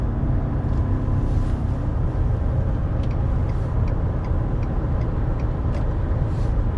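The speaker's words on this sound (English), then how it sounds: "The truck accelerates very smooth, very easy." A 2019 pickup truck engine drones at a steady, loud pitch with low rumble while accelerating and towing, carrying continuously without any voices.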